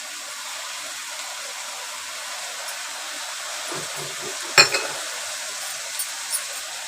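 Methi bhaji with moong dal being stirred in an open pan on a gas stove: a steady low sizzle and hiss, with a cluster of soft scrapes and a sharp clink of the spoon against the pan near the middle.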